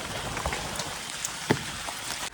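Steady rain hisses close by on surfaces, with scattered sharper drop taps standing out against the even wash of sound.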